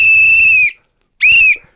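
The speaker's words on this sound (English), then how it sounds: "they'd blow a whistle" A shrill whistle sounds two loud, piercing blasts, the first longer and the second shorter, separated by a brief silence.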